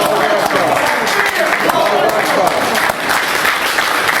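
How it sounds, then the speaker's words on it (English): Sustained audience applause for Minister Abdul Akbar Muhammad at a gathering, a dense, steady wash of many hands clapping, loud and close throughout, with some voices faintly mixed in. "Let us give a strong round of applause to our dear brother, Minister Abdul Muhammad"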